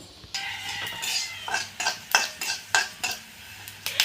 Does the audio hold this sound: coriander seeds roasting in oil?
yes